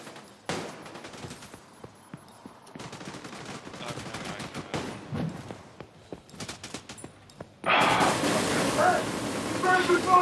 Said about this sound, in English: Shooting his backpack.